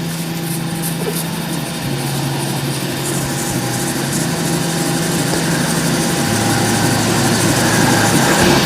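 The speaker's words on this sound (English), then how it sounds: "I just want to make sure I give it a good sand with this first" A lathe spins a burl and epoxy resin shaving brush handle with a loud, steady motor hum and whir as sandpaper is held against it, continuous and close with no talk.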